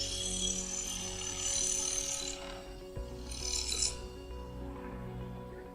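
A wood blank spinning on a lathe as it is turned round, giving a steady rough scraping and rasping with brighter bursts of high hiss as the tool bites, plus a constant low motor hum.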